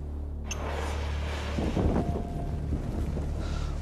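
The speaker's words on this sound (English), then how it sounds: "Wow, that ignites instantly." A fuel-coated garment catching fire instantly and burning with big yellow flames, a steady low roaring rush that swells in the middle, heard up close with no talk.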